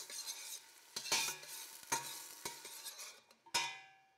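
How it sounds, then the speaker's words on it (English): Onion softening gently in a pan with a low, steady sizzle, broken by several sharp scraping stirs of a utensil against the pan at irregular intervals; close and fairly quiet, no voices. "I just want to soften the onion a little bit."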